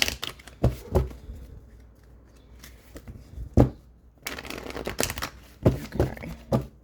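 Tarot cards are shuffled by hand at close range, giving a series of sharp riffling and slapping bursts separated by short quieter gaps.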